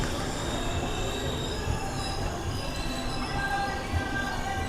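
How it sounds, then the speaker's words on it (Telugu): The 12622 Tamil Nadu Express pulls into platform 1 at Warangal station, its wheels letting out sustained high metallic squeals over a constant rumbling roll that stays loud and near throughout. "వరంగల్కి మన ట్రైన్ వచ్చేసి ప్లాట్ఫామ్ 1కి అయితే వచ్చింది"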